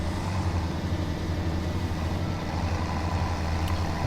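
A tractor engine in Farming Simulator 2017 drones steadily as the vehicle drives, a continuous low rumble at even loudness with no speech over it.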